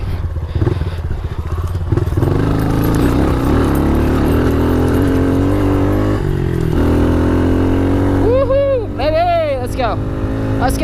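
A pitbike motorcycle engine drones loudly and continuously while being ridden, its revs rising and falling as it struggles to pull in fourth gear, with a brief warbling pitch sweep near the end.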